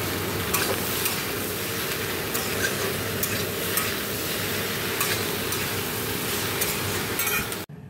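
Okra (bhindi) frying with onion in a wok, a continuous moderate sizzle with occasional stirring clicks, cutting off abruptly near the end.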